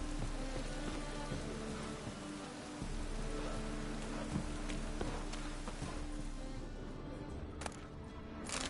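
Heavy, constant rainfall hisses close by for several seconds in The Witcher 3 video game, with a faint rumble beneath and a couple of sharp splashes near the end.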